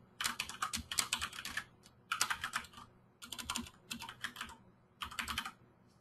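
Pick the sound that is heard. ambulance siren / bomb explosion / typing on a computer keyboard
typing on a computer keyboard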